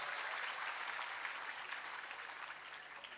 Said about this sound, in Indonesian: tepuk tangan dulu untuk santri tambak beras